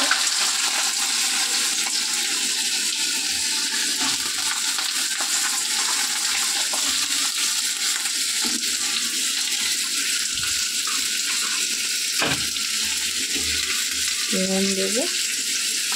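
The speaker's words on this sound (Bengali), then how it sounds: "তেল বেশ গরম হয়ে গেছে, এবারে আলুটা কুচি রাখা আলুটা দিয়ে দেবো।" Chopped potatoes hit hot oil in a home kitchen, giving a steady, loud sizzle and hiss of frying throughout, with brief clinks of stirring and a short spoken remark near the end.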